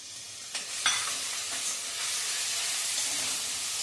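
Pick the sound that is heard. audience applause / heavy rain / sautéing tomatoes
sautéing tomatoes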